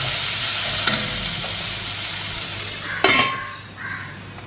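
Cut green beans with curry leaves sautéing in a pan, a constant sizzle with a few spoon scrapes and clinks against the pan, one sharper knock partway through, no talk.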